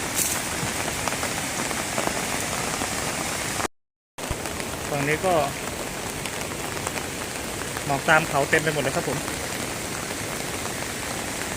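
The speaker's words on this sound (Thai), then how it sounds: "มาเจอฝนถล่ม ทั้งคืนครับ" Heavy monsoon rain patters steadily on a tent near Pha Daeng waterfall, Thong Pha Phum, Thailand, a dense continuous hiss, while someone talks briefly over it.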